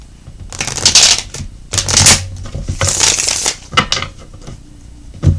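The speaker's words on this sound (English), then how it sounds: "One more shuffle." Playing cards are shuffled in several quick riffling bursts, close and crisp, with short pauses between them and no talking.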